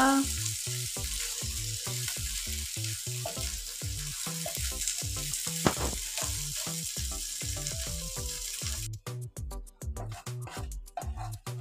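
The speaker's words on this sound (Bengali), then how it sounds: "মাছগুলোকে ভালো করে ভেজে নিব" Small fish fry in hot oil with a loud, constant crackling sizzle, broken by a steady series of regular scraping strokes as they are stirred and turned, the sizzle briefly dropping away toward the end.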